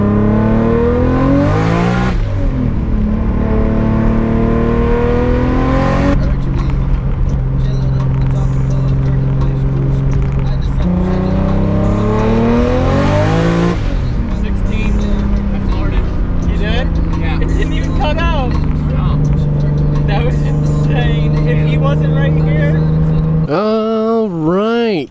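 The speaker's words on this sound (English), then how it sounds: "Floored the car for the first time, so that was pretty freaking awesome." Nissan S14 Kouki with an RB26/30 engine at full throttle, loud rising engine sweeps that climb and drop through successive gear changes, heard close from inside the car with a voice over it near the end.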